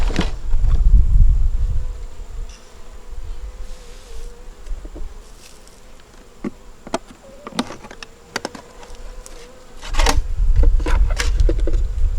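Bees buzzing around a deep nucleus hive that has been robbed out, with only a few bees and the queen left; individual bees drone close by in passes while low rumbling handling noise comes and goes.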